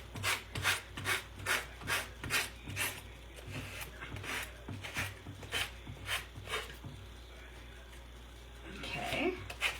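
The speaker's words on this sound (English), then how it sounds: "Let's sand this out." A painted wood piece is sanded by hand in rhythmic rasping strokes, about two per second, fairly close and clear, with a quieter shuffling stretch near the end.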